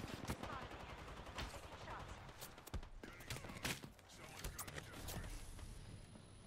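Gunfire in a shooter video game crackles in dense, overlapping bursts of sharp shots, some near and loud and others more distant, with rapid-fire volleys running almost continuously throughout.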